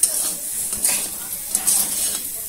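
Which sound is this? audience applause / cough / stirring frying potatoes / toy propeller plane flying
stirring frying potatoes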